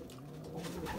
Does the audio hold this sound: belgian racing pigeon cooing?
yes